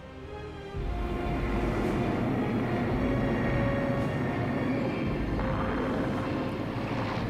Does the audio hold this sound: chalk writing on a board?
no